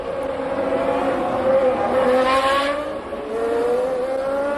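Formula One race cars at a wet Monaco Grand Prix scream past with high, rising and falling engine whine, a loud sustained pitch sweeping up as cars accelerate, with no talk over it.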